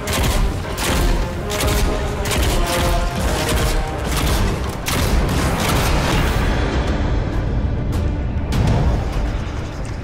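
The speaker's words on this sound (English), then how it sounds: "viscous cannon bombs don't explode on impact, instead detonating a few moments after its adhesive properties take hold" A rapid series of heavy booming explosions from sticky cannon bombs in the video game Nosgoth, detonating one after another, loud and rumbling over about ten seconds with no voices.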